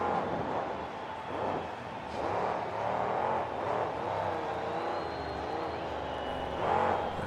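Monster truck at a KORR Monsters freestyle event in Jacksonville, Florida, its engine roaring and surging continuously through revs and jumps, with crowd noise mixed underneath.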